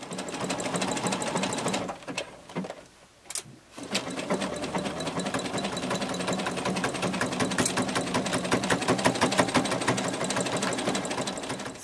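A sewing machine stitches fabric for a cloud dragon soft toy, running in a steady close rhythmic chatter. It pauses briefly near the start, then runs on continuously.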